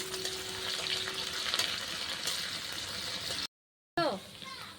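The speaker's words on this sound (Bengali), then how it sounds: "পেঁয়াজ সম্বার দিয়ে দিলাম। পেঁয়াজটা একটু ভাজা ভাজা হবে।" Onions fry in hot oil with bay leaf, garam masala, cloves and cinnamon, giving a steady close sizzle that cuts out for a moment. A short voice-like sound follows near the end.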